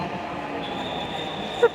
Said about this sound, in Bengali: শুধু মেট্রো রেলের শব্দ দেখছে দেখছো